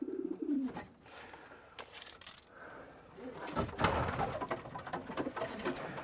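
Pigeons in a small backyard loft cooing near the perches, a soft gurgling coo at first, then a denser burst of coos and wing flutters, with occasional quiet speech.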